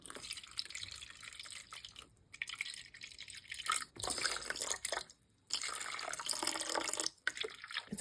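340 grams of water runs steadily into a bowl for sourdough in several bursts, with brief pauses between pours and a faint trickle toward the end.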